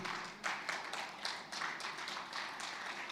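Audience applause welcoming a speaker at a Nigeria-EU health investment forum: steady, moderately quiet clapping from a crowd with no talk.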